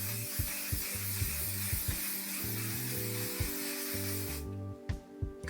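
Makeup setting spray hisses out in a long continuous burst, close and loud, then cuts off, followed by a couple of faint clicks and taps.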